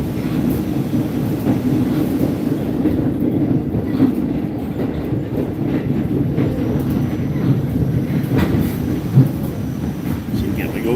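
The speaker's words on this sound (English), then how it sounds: "So again, we go through the switch." A Staten Island Railway train rolls over a switch, with a steady, loud low rumble and faint clattering of wheels on track throughout, heard from on board.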